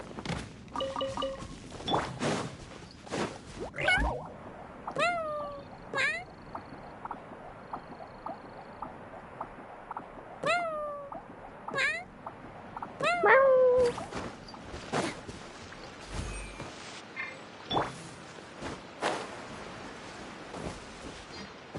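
A cat in Genshin Impact meows several times, short rising and falling cries spaced through a sparse game scene with thuds and soft footsteps.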